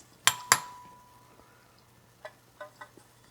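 A spoon clinks sharply twice against a pot while skimming syrup for baklava, followed by a few softer scraping taps, all faint and close.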